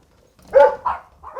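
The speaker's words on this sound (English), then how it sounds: "I'm gonna let the dogs out while you do that." Dogs give a couple of short, close barks as they are let out of the house, with quick yips in an otherwise quiet room.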